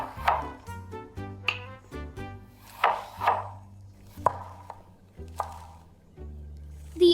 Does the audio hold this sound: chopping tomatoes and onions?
yes